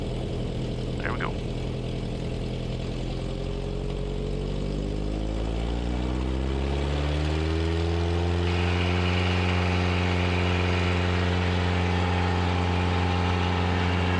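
A Cessna Cardinal 177RG engine starts and settles into a loud, steady propeller drone, the pitch rising as it catches and then holding constant close by.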